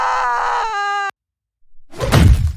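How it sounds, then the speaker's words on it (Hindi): A cartoon creature lets out a loud, strained shriek after an arrow strikes its eye; the scream holds and wavers, then breaks off abruptly into silence, followed by a rough thud and rumble. "जैसे ही तीर उसकी आंख में लगा और वो जोर से चीखने लगा।"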